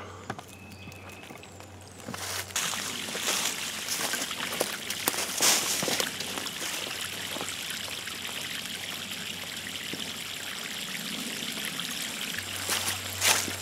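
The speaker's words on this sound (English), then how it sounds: "Now I gotta let it fill up with water." Water from a garden hose runs steadily into a planting bed in a vegetable garden, a continuous splashing trickle that starts abruptly after a brief quiet moment and keeps going at an even level, with a low hum underneath.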